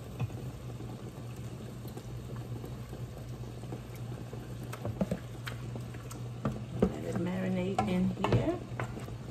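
Beef liver hits a hot pan for a Haitian-style breakfast, giving a quiet, steady sizzle with scattered crackles and a few stirring clatters near the end, no talking.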